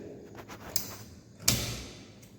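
Incubator cabinet door thuds twice, a light knock followed by a sharper, louder thump, close by in a quiet room.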